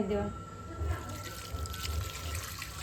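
Water is poured into a pan of oil for a cluster bean curry, a soft steady trickle with faint kitchen clatter, a little muffled and close by.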